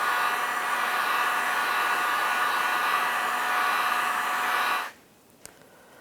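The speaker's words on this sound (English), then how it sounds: "you can use a heat gun. Just lightly heat it up. Constantly moving it." A heat gun blows steadily over the seat foam cushion of a 2000-2006 Chevrolet Tahoe, a loud, even whooshing hum heard close that cuts off abruptly near the end, followed by a faint click.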